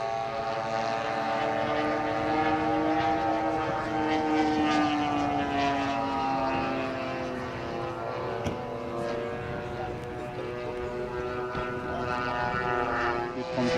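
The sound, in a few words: de Havilland Mosquito aircraft flying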